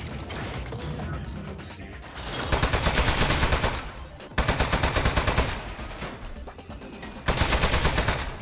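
Turret from the Aperture Desk Job video game firing in long rapid bursts, a fast mechanical rattling clatter that repeats in several loud volleys separated by brief pauses.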